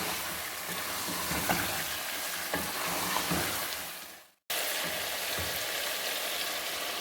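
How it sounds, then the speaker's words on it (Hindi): Large chicken pieces for biryani fry in a pot with a dense, continuous sizzle and crackle that cuts out briefly before resuming just as strong. "अब हम इसको थोड़ी देर के लिए चिकन को भून लेंगे।"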